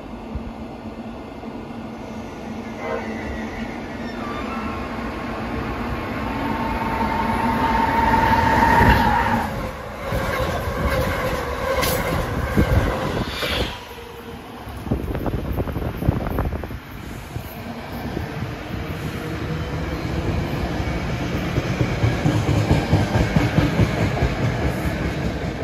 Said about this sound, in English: Approaching is Amtrak 652 from Harrisburg to New York.